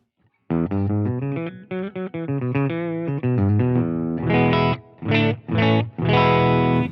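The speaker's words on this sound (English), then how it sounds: "it's an instant acoustic guitar fake sound" An electric guitar runs dry through a Line 6 Helix acoustic-guitar preset, playing a quick run of single notes and then several ringing strummed chords, loud and close.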